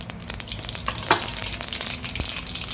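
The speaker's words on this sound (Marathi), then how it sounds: "आता आपण मोहरी टाकू" Mustard seeds and cumin hit hot oil in a kadai and fry with a steady, close sizzle, broken by sharp crackles and pops throughout.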